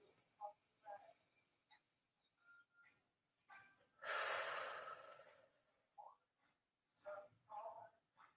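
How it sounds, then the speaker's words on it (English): A slow, deep breath drawn in and let out during a breathing exercise, one long, loud airy rush standing out amid quieter scattered breaths and small mouth sounds. "taking deep breaths"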